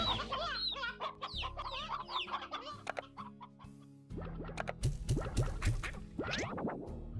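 Chickens in the Slime Rancher video game cluck and squawk in a busy run of short, choppy calls, clear and close, with a brief lull before a louder burst of clucking.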